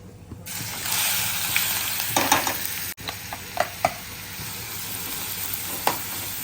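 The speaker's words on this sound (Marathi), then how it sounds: "कांदा टाकूया तर चला मस्त आहे बघा आता आपल्याला आहे ना कांदा मग शिजवून घ्यायचा आहे चांगला" Finely chopped onion sizzles and fries in a pan with whole spices like cloves and cinnamon, a steady close hiss broken by occasional clinks and scrapes of stirring.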